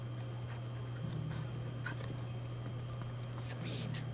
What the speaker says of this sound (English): Come here, puppy. Let me pet you.